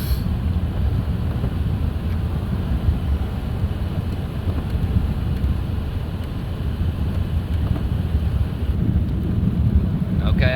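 Inside a 2008 Chevy Colorado truck driving at 60 mph, a steady low road and wind rumble fills the cabin, dense and unchanging throughout, with no clear engine note above it.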